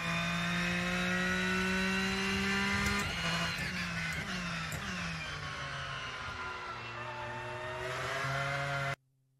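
Porsche race car engine in the racing video game Rennsport, a steady loud engine drone with shifting pitch, a gear change or rev shift around midway, then continuing until it cuts off abruptly near the end.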